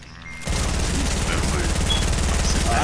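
Rapid hand cannon gunfire in a Kratos versus Zeus video game match, a dense, loud stream of shots starting abruptly after a brief quieter moment and continuing without pause, with a voice under it.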